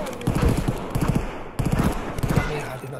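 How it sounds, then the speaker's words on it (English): Video game gunfire on the Factory map in Escape from Tarkov, rapid bursts of shots in two clusters, loud and close, with a voice talking over them. "Oh, they're shooting me."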